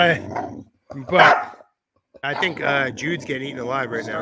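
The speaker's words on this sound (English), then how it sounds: "That's my fierce bulldog" A bulldog lets out several barks and yips close by, mixed in with someone talking over and around them.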